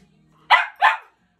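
A dog being trained to stay on a place mat with a treat as distraction lets out two quick, sharp barks close by, after a faint low whine, with no talking.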